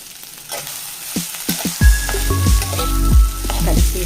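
Tomato egg fried rice sizzles loudly in a hot pan while a spatula stirs and scrapes it, with sharp clanks of the utensil against the metal, close up and without talk.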